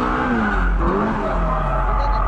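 A drifting car loses control, with tires squealing and skidding under a revving engine, loud and close, while a voice talks over it.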